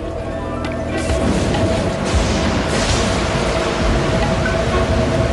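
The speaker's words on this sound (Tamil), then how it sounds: "மழையும் புயலும் ரொம்ப அதிகமா இருக்கு" Heavy rain and storm effect from a cartoon, a dense, steady roar of broadband noise with low rumbling booms swelling after the first second and holding loud throughout.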